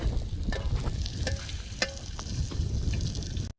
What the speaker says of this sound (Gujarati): અમે ડુંગળી પકાવે છે